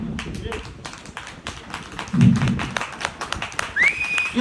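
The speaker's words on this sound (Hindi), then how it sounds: "ये जबरदस्त ताली है।" An audience at an open seminar claps in a dense, rapid patter that swells partway through, while a speaker talks over the applause.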